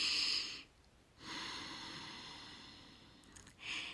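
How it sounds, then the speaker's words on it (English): Deep breaths drawn in through the nose during a breathing exercise, a long airy inhale, a brief pause, then another sustained breath and a fresh intake at the end, close and quiet. "Just try it a few times and watch your belly expand as you breathe through your nose."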